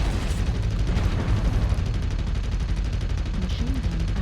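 Machine gun fire from a mech in the MechWarrior Online video game, a loud continuous rattling barrage with dense rapid shots throughout.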